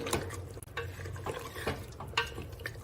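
Aloo gosht being stirred in a pan after green chillies and chopped coriander go in, with wet scraping strokes over a soft, continuous sizzle, close and moderately loud.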